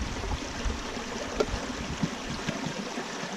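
Water being emptied out of a water test kit gives a continuous splashing, trickling pour with a few louder gurgles and drops, close by and steady throughout.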